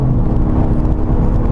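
A 2018 Genesis G80 Sport's engine revving in sport mode, heard from inside the cabin and amplified through the speakers, with a loud, steady low rumble and no talking.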